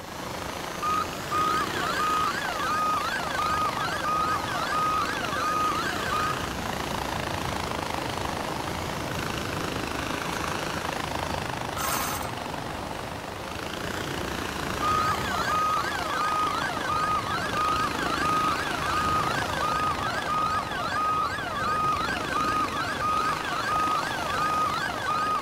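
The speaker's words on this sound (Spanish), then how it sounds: "Aquí está mi helicóptero" A helicopter flying in the game Far Cry 4 keeps up a steady engine roar with rapid rotor chopping. It sounds sustained and fairly loud, with a brief high-pitched burst partway through and no talking.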